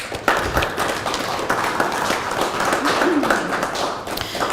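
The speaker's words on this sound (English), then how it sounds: "So a big round of applause for all our volunteers too" Applause from a crowd at a Tourism Valemount celebration event, for volunteers, a dense patter of clapping sustained for a few seconds with some taps and background voices mixed in.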